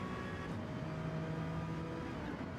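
Car engine in Gran Turismo 7 drones with a steady, faint tone that holds level with slight pitch shifts, playing quietly with no talk over it.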